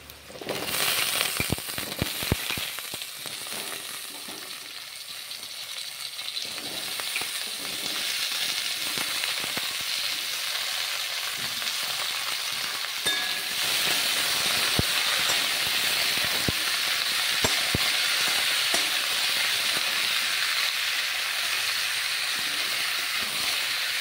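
Sliced potatoes hitting hot oil with fried onions in a pan, giving a loud sizzle and steady, close frying hiss that carries on throughout.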